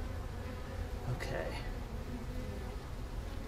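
Honeybees buzz steadily inside an open hive during winter preparation, a close, continuous low hum with a brief voice speaking once over it.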